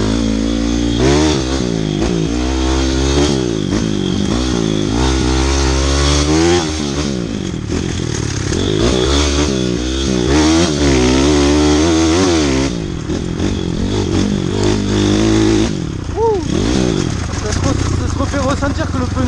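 A 160cc YX pit bike engine revs hard at full throttle, its close, loud buzzing drone rising and falling in repeated surges as the rider accelerates and shifts. A voice sounds over the engine.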